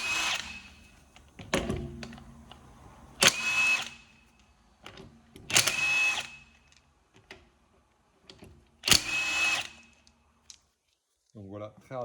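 A Bosch GDS 18V-1000C cordless brushless impact wrench fires in three short, loud hammering bursts with quiet gaps between them, stopping abruptly each time, while a voice talks in the pauses.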